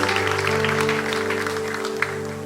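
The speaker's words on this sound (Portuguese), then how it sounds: "Aplauda ao Senhor" A church congregation claps together in a loud, sustained round of applause over a steady tonal background.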